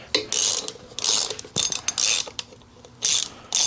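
An impact wrench loosens intake bolts on an Evo Sportster engine in several loud, close, rattling bursts of hammering, separated by brief gaps.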